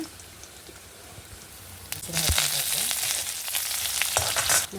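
Mustard seeds hit hot oil for a drumstick-leaf dal, starting with faint background noise and then breaking into a loud, close, crackling sizzle that continues to the end, with no talking.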